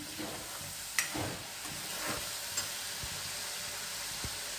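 Grated coconut and onion frying in a hot pan, a steady sizzle with a few soft stirring scrapes and taps throughout.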